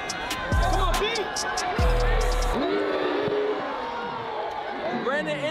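Crowd noise fills a basketball game in Florida, a loud continuous roar with swells of cheering, joined by sneaker squeaks, hard ball bounces and excited voices talking over it.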